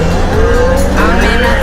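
A 2021 McLaren Senna fitted with a RACE GTR Inconel high-performance exhaust and a Stage 2 package revs loudly and close, its engine pitch climbing steadily in a continuous roar.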